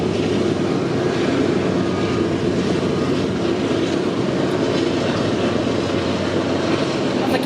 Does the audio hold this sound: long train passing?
yes